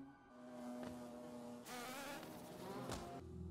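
Bees buzz in the video game Hollow Knight in a soft, continuous droning hum with a few louder swells, heard alone without talk.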